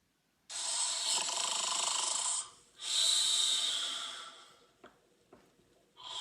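A sleeper snores in two long, raspy breaths, the first drawn out and the second swelling then fading, followed by a few faint snorts and shorter wheezy breaths, close and fairly quiet.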